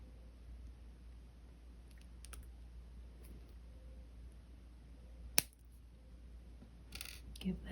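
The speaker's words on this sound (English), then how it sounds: "Give that a snip" A single sharp snip of wire cutters through thin jewelry wire on a seed bead ring, a crisp click near the middle, with a few faint taps and rustles in a quiet room.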